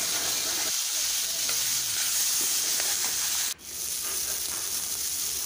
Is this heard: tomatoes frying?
yes